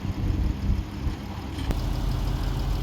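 A 2016 Jeep Cherokee with a 3.2 liter naturally aspirated V6 runs at a steady idle, a continuous low rumble that stays even throughout, heard close up.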